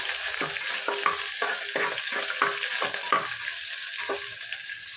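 Small shallots for mutton kulambu sauté in hot oil, giving a continuous close sizzle with repeated rhythmic stirring scrapes about every half second and no voice over it.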